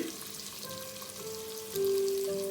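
Garlic fries in hot oil for an aubergine curry, producing a continuous close sizzle and crackle that grows slightly louder partway through, with faint tonal hums beneath.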